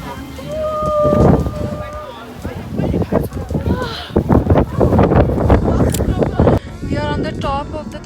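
Strong wind buffeting across the snowy glacier plateau at the Top of Europe in freezing weather, heavy rumbling gusts hitting close up while voices talk throughout.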